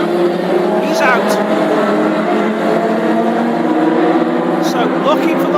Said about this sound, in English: So looking for the lead car to come through again, and here he is.